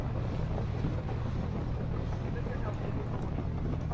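Steady wind rushes and buffets the microphone aboard a boat in a sheltered bay near mountains on an island camping trip, forming a constant loud roar with low rumble throughout.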